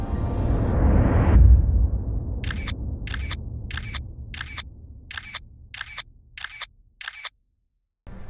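A smartphone on a DJI Osmo Mobile 2 gimbal shoots a panorama series: after a fading low rumble, nine crisp synthetic shutter clicks come at a steady, even pace, close and clear, with no voices.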